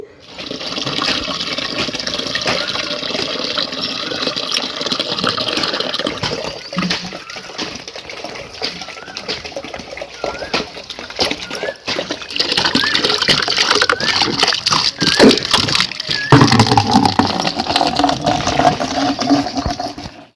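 Tap water runs hard and splashes into a container, a steady close rush that shifts in tone as the vessel fills.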